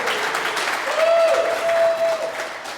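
Seminar audience applauding, a dense wash of clapping that holds steady for a few seconds, close and full, with a faint tone ringing through the middle.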